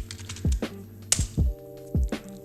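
Keys clack on a computer keyboard during a Manjaro Linux terminal session, in a few separate, close strokes. The presses fall in small uneven clusters, each with a short thud.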